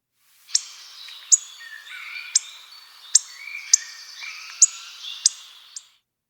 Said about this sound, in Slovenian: Dlesk se oglaša.